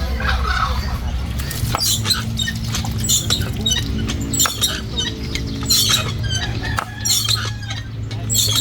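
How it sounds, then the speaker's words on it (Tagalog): Turkeys gobble in bursts amid chattering chickens and pattering, close by and busy, with some distant voices in the background. "tingnan natin itong ating pabo at manok"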